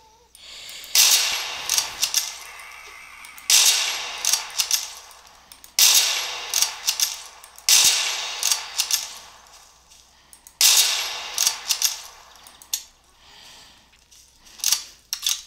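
Video game gunfire rings out in repeated sharp bursts of metallic shots, grouped in clusters with short pauses between them, loud and close with no talk over it.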